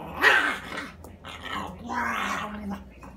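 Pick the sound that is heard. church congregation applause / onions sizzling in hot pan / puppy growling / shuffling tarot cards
puppy growling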